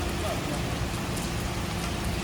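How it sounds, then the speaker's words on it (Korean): Steady morning rain shower in a small Japanese town, a dense continuous hiss of drops falling on surfaces, even and unbroken throughout with no voices. "아침부터 소나기가 내린다"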